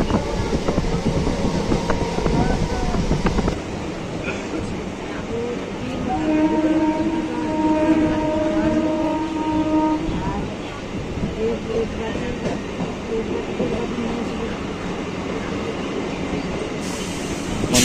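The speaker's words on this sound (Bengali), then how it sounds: "আমাদের ট্রেন ছেড়ে দিয়েছে দমদম জংশন থেকে" Sealdah–Ranaghat local train pulls out of Dum Dum Junction, its rumbling wheels and car noise steady and close, with a long tonal horn-like note midway and a voice speaking over the ride.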